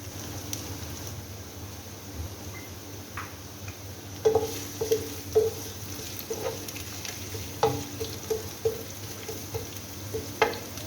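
Chopped onion and a torn bay leaf fry in oil with a low, steady sizzle, joined midway by a series of light, rhythmic spatula taps and scrapes against the pan.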